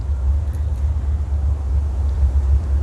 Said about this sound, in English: I'm letting the sounds of motorcycles and cars get past us